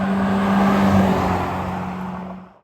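Hyundai Ioniq 5 N electric car accelerating hard, a loud steady whine and road roar with a sustained tone held throughout, fading abruptly at the end, with no talking.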